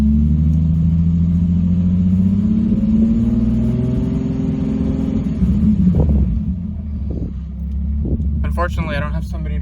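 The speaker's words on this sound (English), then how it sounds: "let's give her like a couple of light revs" Nissan 350Z engine at operating temperature given a couple of light revs, a steady low idle rumble swelling with rising harmonics then settling back, close by, with a few clicks and brief knocks near the end.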